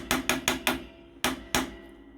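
Six sharp hammer blows shaping a metal ring into a square, four in quick even succession, then a pause and two more ringing strikes, close and loud.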